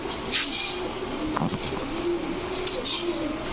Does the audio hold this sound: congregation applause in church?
no